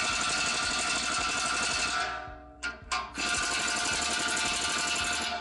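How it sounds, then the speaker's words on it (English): Kingtone 3/4 pneumatic impact wrench hammering on engine bolts of a ZMZ-513 engine, with a loud, continuous rattling burst, a short stop with two quick blips, then a second sustained run, close and without talk. "So I take my Kingtone 3/4 pneumatic impact wrench and try to unscrew it."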